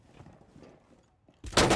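Gunfire in the tactical shooter Rainbow Six Siege: after quiet low rumble, a sudden loud burst of shots erupts near the end and continues to the clip's close.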